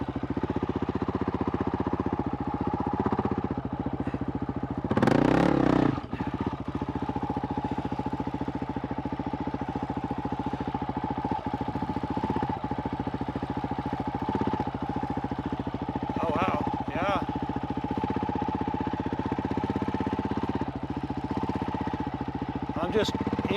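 A Honda CRF450RL dirt bike engine running steadily close by, with a brief throttle blip and small revs barely rising over a constant drone, someone talking over it outdoors.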